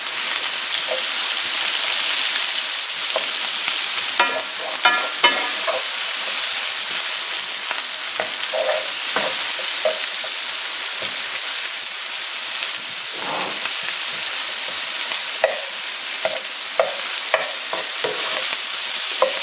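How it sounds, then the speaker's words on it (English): Mushrooms, garlic and onions fry in oil over high heat, a loud continuous hissing sizzle broken by frequent stirring scrapes and light taps from the utensil. "I'm going to stir this around pretty often. There is garlic in there, and I don't want the garlic to burn."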